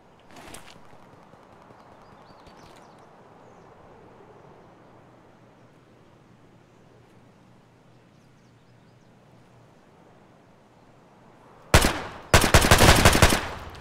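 Pistol gunfire in Escape from Tarkov crackles in a short, loud, rapid cluster of shots near the end. A faint distant report comes earlier, over quiet ambience with no talking.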